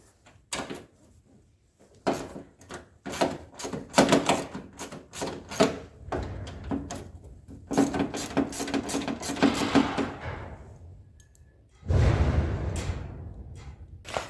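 Nuts being loosened on the drive shaft of a 1971 AMF Ski Daddler Mark IV snowmobile, heard as a run of sharp metallic clicks and ratchet-like taps in uneven bursts, close up, with a heavier clunk and scrape near the end.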